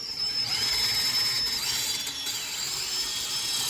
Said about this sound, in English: you use the next one that's the same size as the previous set of drilling, 1/4 inch drill bit in this case